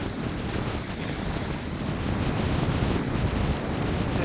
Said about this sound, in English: I'm just going to get some close-up shots of the waves on the back of Spray Point.